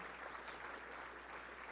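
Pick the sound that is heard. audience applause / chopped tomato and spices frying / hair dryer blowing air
audience applause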